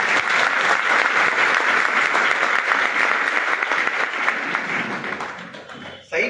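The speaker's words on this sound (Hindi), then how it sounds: "सबसे पहले तो ताली बजाना पड़ेगा।" Audience applause at a seminar, loud sustained clapping from a crowd for about six seconds that tapers off abruptly at the end.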